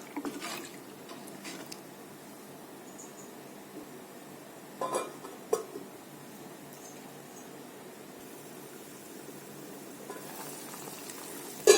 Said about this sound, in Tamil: குழம்பு நல்லா கொதிக்க ஆரம்பிச்சிருச்சு.